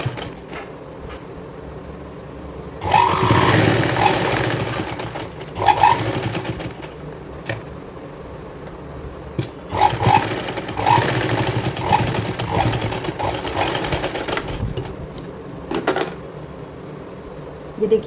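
A sewing machine stitches a girl's cordset for ages six to seven, running in long steady whirring bursts with brief pauses between them, close and loud, no talk over it.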